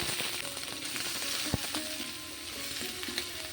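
Chopped beans, potato, tomato and onion tipped into hot mustard oil with black cumin seeds, setting off a steady loud sizzle with clinks of a spatula against the pan and one sharp knock.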